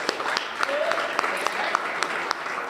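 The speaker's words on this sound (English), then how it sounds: "I want to have everybody give themselves a round of applause for being here" Audience applause at a poetry slam, a steady clapping wash with scattered sharp claps and voices mixed through it.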